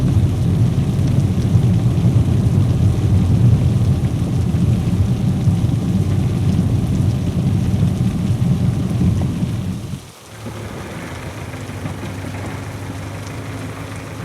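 Steady light drizzle on wet ground in Yavatmal falls with a dense, constant hiss, dropping away for a moment near the end before continuing more softly.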